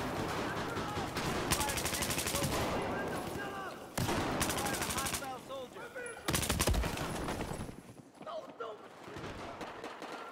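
AWS light machine gun firing in Battlefield 4, heard as dense, loud bursts of rapid automatic fire with brief pauses, mixed with other battle noise throughout.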